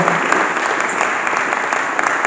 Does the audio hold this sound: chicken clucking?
no